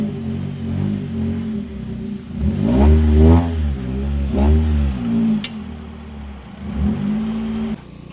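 A car engine revving as it climbs very tall ramps, rising in several surges and easing back between them, close and fairly loud with no talk.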